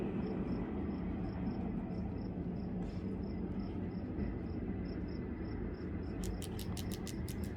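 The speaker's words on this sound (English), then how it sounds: "Hear that grasshopper?" A steady, rapid insect chirping pulses evenly over a low ambient rumble, ending with a few louder, quicker chirps close by.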